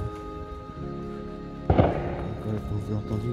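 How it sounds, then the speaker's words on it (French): Gunshots ring out near a forest beside an old abandoned cement works, a sharp crack or two standing out over steady background noise while someone talks. "comme vous l'entendez, il y a des coups de feu"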